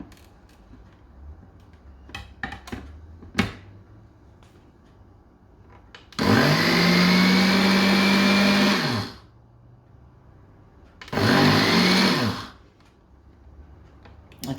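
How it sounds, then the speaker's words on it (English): Blender whirring through coconut pie filling in two loud bursts of about three seconds and one and a half seconds, its pitch dropping slightly as it runs. Quiet kitchen clatter and clicks come before and between them. "Put the lid on and we'll just blend it"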